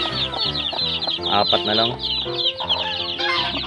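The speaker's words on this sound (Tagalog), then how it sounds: "Yung may manok doon sa may lutuan." Chickens near a cooking area, a hen with her chicks, cluck and peep busily up close, their calls overlapping throughout, while a person speaks briefly.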